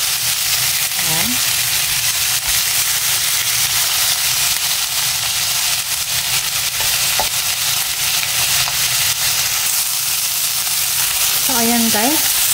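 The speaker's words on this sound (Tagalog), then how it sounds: "igigisa lang natin siya hanggang sa mag-brown konti" Chicken wings sauté in a pan until lightly browned, a loud, steady close-up sizzle throughout, with a couple of brief, faint voice-like sounds near the start and the end.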